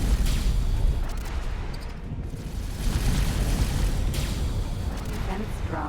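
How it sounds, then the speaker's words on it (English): A ship under fire in the space game X4, a dense rumbling barrage of booms and impacts that swells and dips, loud and close, with game voice callouts mixed in. "We're getting shot."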